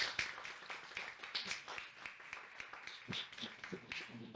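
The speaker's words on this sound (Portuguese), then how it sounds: "vamos receber com uma salva de palmas nossa convidada, Patrícia Constâncio." A seminar audience applauds to welcome a guest speaker at a children's theatre seminar, with quiet, scattered clapping that keeps a loose rhythm throughout, heard faintly from a distance.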